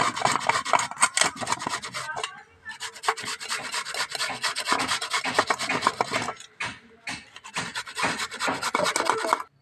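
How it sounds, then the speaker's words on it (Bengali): Beetroot is rubbed against a small grater to make homemade abir colour, giving a loud, close, rhythmic rasping scrape in quick repeated strokes with brief pauses between bursts. "এবার বিটটাকে আমি ঘষে নেবো দেখো ছোটোটা মানে মেশিন নিয়ে নিয়েছি"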